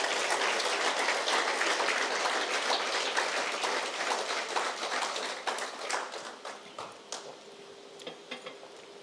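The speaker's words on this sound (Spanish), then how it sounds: "Denle un aplauso al Señor." A church congregation claps during a sermon, a dense wash of applause that slowly thins out into scattered individual claps, heard at moderate volume.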